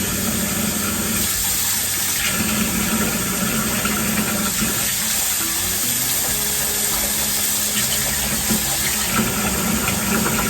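Tap water runs steadily for washing handspun wool yarn in a homemade wool wash, a continuous close rushing splash with no talking.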